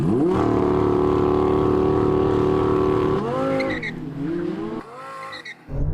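Loud engines of a Lamborghini Huracan and a Porsche 911 Turbo roar and climb through the gears in a drag race, pitch rising and dropping between shifts, with a brief tire squeal as they launch.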